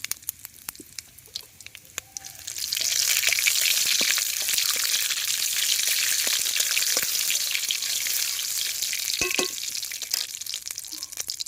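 Cumin seeds, bay leaf, dried red chilli and garam masala hit hot oil for a fish-head muri ghonto, a steady loud sizzle that rises after a quieter start, with a few clinks of a spoon against the pan.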